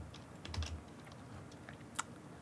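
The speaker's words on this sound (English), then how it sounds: "I type Control-S to save" Quiet keystrokes on a computer keyboard, a scattered run of light clicks with one sharper tap near the end, faint and close.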